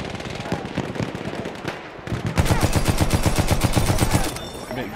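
Heavy automatic gunfire from a big gun in the World War I shooter Battlefield 1, a loud rapid burst followed by a steady run of closely spaced shots with dense battlefield noise.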